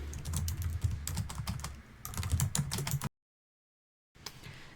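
Someone types a question into a Zoom live chat on a computer keyboard, with quick bursts of key clicks close by, a brief pause mid-way, then a full silence before the typing resumes.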